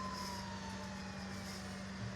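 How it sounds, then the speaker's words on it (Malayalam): An ambulance siren wails in Bus Simulator Indonesia gameplay, a faint, steady descending tone over a low engine drone with no talk. "ആംബുലൻസ്"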